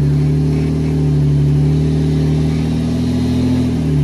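A Jeep engine revs steadily while driving off-road, a loud, close, sustained drone of low harmonics that holds evenly throughout.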